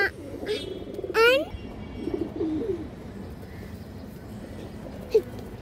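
A big-headed fancy pigeon coos softly in a few short calls at close range, with other bird chirps and a rustling background, and a voice briefly heard.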